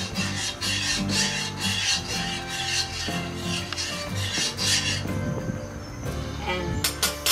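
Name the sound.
mixing rice with salt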